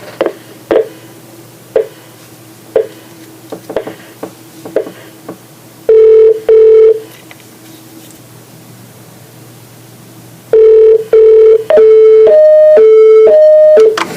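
A federal prison's phone line with a series of short, sharp tones followed by a loud, long ringback or dialing tone, then rapid tones of shifting pitch, over a quiet hum.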